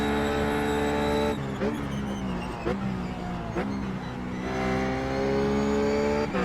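Simulated RUF GTC race car at Road America in iRacing, engine droning loudly with harmonic tones that dip and jump as the throttle is blipped on downshifts, several sharp revs in a row.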